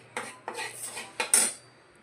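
Hot soan papdi mixture is scooped from the pan onto plates. A handful of sharp metallic scrapes and clinks of a spoon against cookware ring out close and clear, with short pauses between them.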